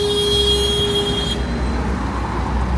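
Busy city street traffic in Pueblo Libre, Lima, with cars, buses and trucks rumbling steadily at close range and a brief toot, as a sustained roar of road noise with no talk.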